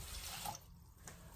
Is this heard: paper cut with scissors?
no